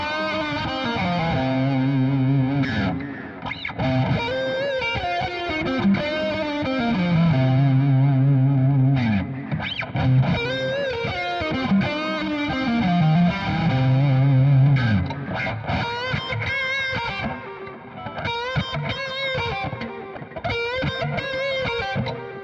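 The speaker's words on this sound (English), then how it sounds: "let's try some kind of modern bluesy lead lines, I guess, using the same three pickup selections in order" An Aria Pro II 212-MK2 Bowery electric guitar plays modern bluesy lead lines through a driven, effected tone, with bends and sustained notes over a steady backing for about twenty seconds, without talk.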